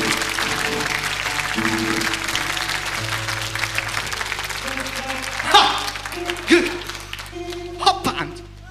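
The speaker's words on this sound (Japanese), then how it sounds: "拍手、もっと叩け、もっと叩け、叩きまくれ" Audience applause at a live concert for an NHK-FM broadcast in 2004, sustained clapping mixed with sustained instrument tones and talking, thinning into a few louder claps toward the end.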